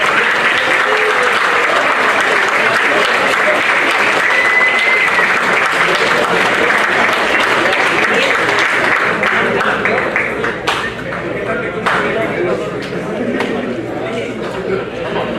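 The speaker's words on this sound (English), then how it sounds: "Let's give a round of applause to all of our coaches." A banquet crowd gives sustained applause for the coaches of a U15 American football team, dense and loud clapping that rolls on for several seconds and then thins toward the end.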